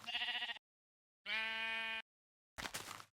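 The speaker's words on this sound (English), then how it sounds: "so many sheep" Sheep in Minecraft bleat three times, each a separate, clear and fairly loud call with short silences in between.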